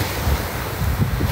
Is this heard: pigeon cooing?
no